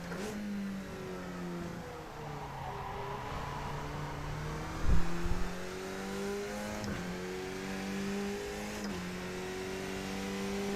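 A race car engine in iRacing revs and shifts through rising and falling tones, climbing up through the gears with a short burst of mechanical clatter midway, steady and fairly close, with no talking.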